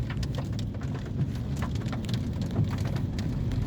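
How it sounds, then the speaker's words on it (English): Sudden rain falls on a Melbourne street along a tram route, a dense, steady hiss of drops hitting pavement with scattered louder patters, continuous and close with no voices. "Sudden rain."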